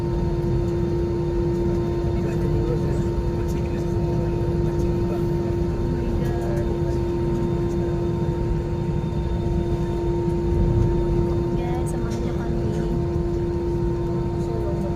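Steady airplane engine drone inside the cabin during flight, heard from an aisle seat with a constant low roar and a fixed tonal hum, continuous under people talking nearby.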